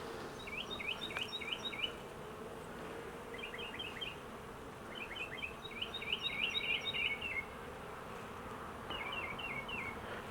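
Honeybees in an opened nuc hive give off a steady, close droning hum for the whole stretch, with bursts of chirpy bird calls sounding in the background.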